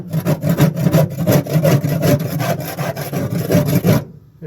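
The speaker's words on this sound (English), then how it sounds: "I'm just using a scraper pry bar" A metal scraper pry bar scrapes thick crust off the floor of a van, a loud, steady run of rough rasping strokes in quick rhythm lasting several seconds before stopping.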